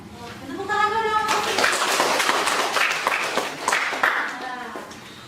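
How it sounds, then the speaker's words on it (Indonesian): Classroom of students clapping together, a dense burst of applause that starts after a brief voice and carries on steadily, with children's voices mixed in. "Tepuk tangan dong."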